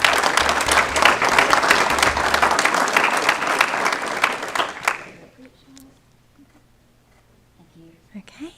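An indoor audience at a county board of education meeting claps loudly for National Board recipients, a dense burst of applause that fades out after about five seconds into quiet room murmur.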